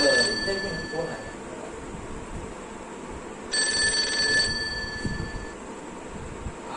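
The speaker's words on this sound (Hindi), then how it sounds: "फोन आया" A telephone rings in two short bursts of a bright, trilling bell tone, the first at the start and a second a few seconds later, over low background noise.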